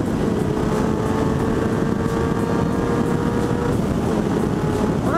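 An old motorcycle engine revs continuously as the throttle is opened, a steady loud roar with wind buffeting the microphone while riding.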